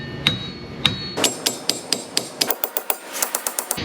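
Metallic hammer blows strike a rusted wheel hub on a Nissan Xterra 2WD truck repeatedly, first spaced apart, then in a quicker steady rhythm of ringing clanks, close and sharp.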